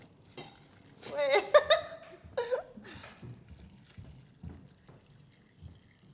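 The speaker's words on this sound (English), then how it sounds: "And then just pour cold water over it." Cold water is poured from a jug over dandelion leaves and lemon in a kitchen, a short splashing, gurgling pour that comes in bursts and trails off into quieter trickles and handling noises.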